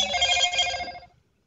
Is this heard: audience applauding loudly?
no